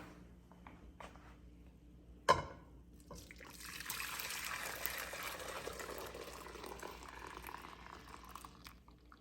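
Liquid from homemade yogurt preparation is poured from a pan into a bowl, a soft steady trickle and splash following a sharp knock of the pan, faint and close, with no talk.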